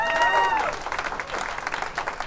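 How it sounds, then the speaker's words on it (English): Audience applause at a TEDx talk at Yeshiva University, a burst of clapping from a seated crowd that rises and then thins into scattered claps, with a voice briefly over the start. "A round of applause for the 5 Torot."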